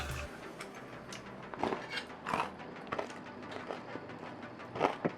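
Someone bites into crispy fried chicken from a nasi lemak dish, giving several sharp crunches at irregular intervals over quiet background noise, fairly close.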